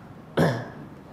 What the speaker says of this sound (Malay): Nak batuk lah.